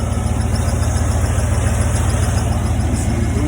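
A pickup truck engine idles steadily after a cold start, a loud, even low rumble with a regular pulsing rhythm that runs unbroken from start to finish, with no talking over it.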